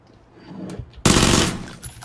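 Gunfire in the PUBG battle royale video game: after a quiet lead-in with faint movement sounds, a loud burst of rapid automatic shots erupts suddenly, close and harsh, lasting about half a second before fading into softer noises.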